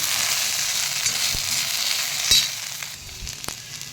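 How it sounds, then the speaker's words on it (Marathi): Garlic cloves and okra sauté in a hot pan with a steady, dense sizzle. A few faint clicks and taps of stirring break through the constant frying hiss. "आणि व्यवस्थित परतून घ्यायचं म्हणजे भेंडीसोबत लसूणही छान भाजून घेतो"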